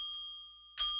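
A small bell rung on a live stream, a bright metallic ding with a lingering ring that decays, followed by a second sharp strike near the end.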